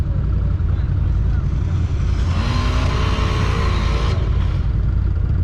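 A CFMOTO side-by-side, a 2021 ZFORCE 950 or UFORCE 1000, revs its engine while trying to climb snow in two-wheel drive, a loud, steady, close drone with a rising surge in the middle, partly under voices.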